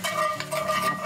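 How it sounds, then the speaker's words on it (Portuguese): Garlic browning in olive oil, heard as a soft close sizzle with brief stirring scrapes, short and fairly quiet. "tá colocando azeite. É a gosto, tá? E dourar o alho"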